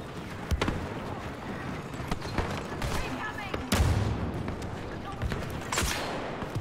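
Blaster fire in the Star Wars Battlefront 2 Galactic Assault mode on Jakku crackles in rapid bursts over a busy battle din, with a deeper thump midway as a voice talks over the action.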